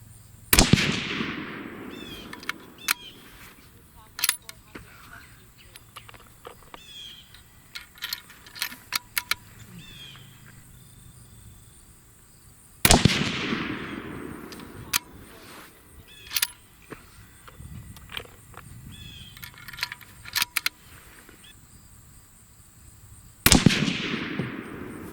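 Savage 12 rifle firing 6.5 Creedmoor Berger bullets, three sharp, loud shots spaced several seconds apart, each with a ringing decay, with small clicks and handling noises between them.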